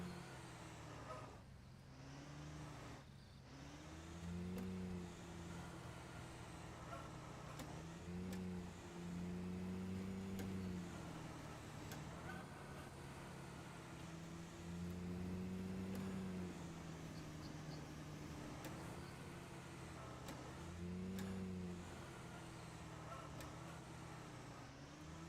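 Vehicle engine droning steadily while driving in the fishing game Call of the Wild: The Angler, with a low hum that rises and falls in pitch as it revs and eases, loud and continuous throughout with no talk.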